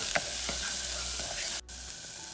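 Onions and red peppers frying in butter, a close steady sizzle with a few light stirring taps and a brief dip in the hiss partway through.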